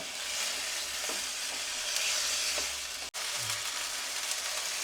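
Chicken being stirred and fried in a pan on a gas stove, a constant close sizzle with occasional scrapes and clanks of the spoon against the pan.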